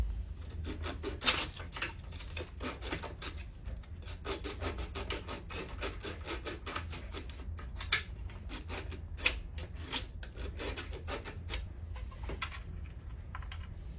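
The seat of a water heater safety group fitting is being cleaned with quick, repeated dry rubbing and scraping strokes. The strokes are close and fairly soft, with a few sharper clicks among them.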